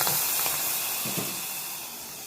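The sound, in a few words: sizzling tempering (popu) for tomato rasam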